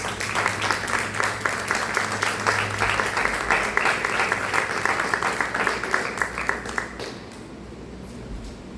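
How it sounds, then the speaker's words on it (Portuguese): A church congregation claps in steady, sustained applause for about seven seconds, then it quickly dies away into quiet room sound. "dar uma linda salva de palmas para o Senhor"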